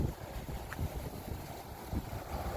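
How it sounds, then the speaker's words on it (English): Bitterly cold wind gusts through a garden, buffeting the microphone with low rumbling bursts and a steady rushing noise, with no voices heard. "God, it's cold today as well, bitterly cold wind."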